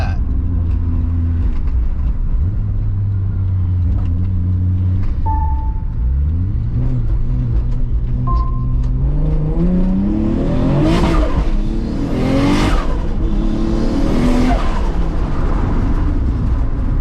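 A 700hp 2JZ-powered JDM Toyota Supra accelerates hard and loud, its engine note climbing steadily through rising revs, then breaking into bursts of higher-pitched roar and whooshing toward the end.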